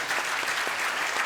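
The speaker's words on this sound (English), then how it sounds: "You can applaud." A debate audience breaks into applause, a short burst of dense, even clapping that fills the whole moment.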